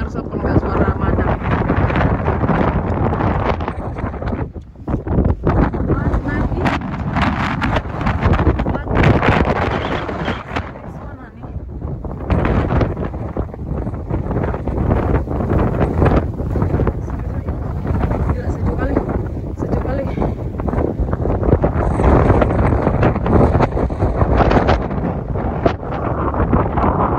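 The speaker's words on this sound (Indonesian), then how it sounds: "Anginnya kenceng kali" Strong wind at Vila do Bispo in Portugal buffets the microphone in loud, gusty roaring bursts that rise and drop throughout, with no voices clearly heard over it.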